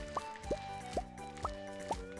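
Watering crops with a watering can in the farming video game Stardew Valley: five evenly spaced splashy water pours with a rising chirp, about every half second, fairly close over a soft steady game background.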